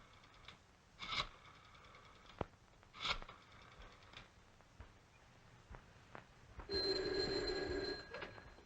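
A telephone rings once in an office during a 1930s detective story, a steady electric bell burst near the end following faint background noises.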